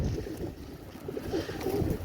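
Saharanpuri pigeons coo softly and repeatedly at close range over a low, murky background.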